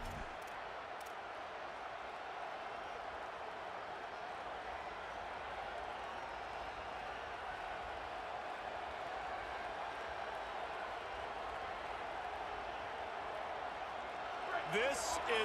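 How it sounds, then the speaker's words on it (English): Stadium crowd noise from College Football 27 at a Texas A&M game, a steady, distant wash of cheering and murmur that holds level throughout, rising slightly near the end. "This crowd ready to make its presence known."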